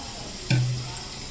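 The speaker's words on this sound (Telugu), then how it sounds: "పండుమిరపకాయల పచ్చడికి తాలింపు వేస్తున్నా చూడండి" Red chilli chutney is tempered in hot groundnut oil with cumin and mustard seeds, giving one short burst of sizzling that quickly settles into a quieter, fading hiss against a steady background hum.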